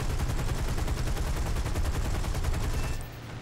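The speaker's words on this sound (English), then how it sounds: "I'm now pursuing a Messerschmitt 109mm, gradually closing the distance before opening fire" Sustained, rapid, loud machine gun fire from a P-400 fighter in the War Thunder air combat game, chasing a Messerschmitt 109, rattling continuously for about three seconds before cutting off.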